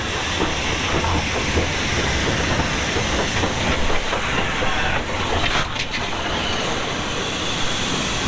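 A train rolls past close by, a loud, continuous roar and rumble with a rattling clatter of wheels that stays strong for the whole stretch.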